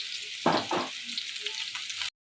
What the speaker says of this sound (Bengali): একটু কচুগুলোকে আমি একটু ভেজে নিচ্ছি